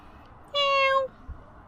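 A single clear meow from a cat, short and fairly close, rising then falling, against a faint quiet background.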